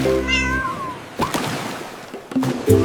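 A small cat gives a single clear, fairly loud meow near the start, followed by quieter rustling and soft thumps; no one speaks.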